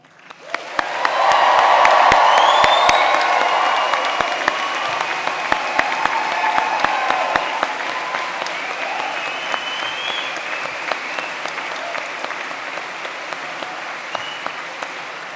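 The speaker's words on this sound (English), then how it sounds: "I invite our new graduates to join me in showing their thanks with a huge cheer and another round of applause" A large audience at a Bournemouth University graduation in 2011 breaks into a loud cheer with applause, then sustained clapping that slowly tapers, with scattered sharp individual claps.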